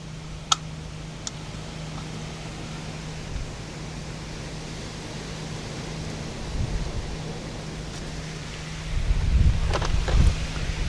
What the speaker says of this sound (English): It's a little bit windy tonight,